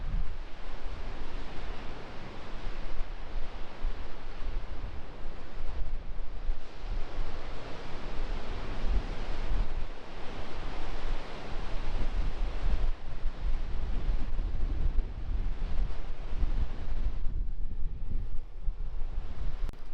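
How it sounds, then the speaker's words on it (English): Ocean surf with steady wind buffeting the microphone on a bright day by the sea, a continuous broadband wash of waves close by with gusty low rumble and no voices. "Absolutely love the sound of the ocean."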